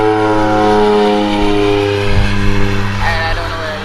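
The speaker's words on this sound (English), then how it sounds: "that's a plane going over my head now" A plane passes overhead outdoors, a steady broad drone with tonal hum that swells slightly toward the end, continuous and fairly loud throughout.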